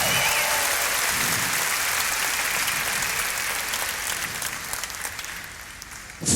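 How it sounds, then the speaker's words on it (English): A large arena crowd at a live comedy show applauds loudly and continuously, a dense roar of many hands clapping that holds strong before easing slightly near the end. "Let's give each other a huge round of applause."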